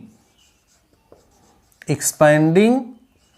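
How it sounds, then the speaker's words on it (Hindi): Faint scratching of handwriting during a maths lesson on expanding a determinant, soft and intermittent at first, then a voice speaks over it toward the end. "तो हम यहां लिख देंगे, ध्यान दीजिए क्या लिखेंगे"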